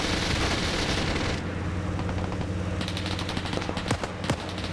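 Rapid fast-firing gunfire in a Rhodesia campaign video game, a dense continuous burst at first that drops back, then resumes as sharp repeated shots over a rumbling background.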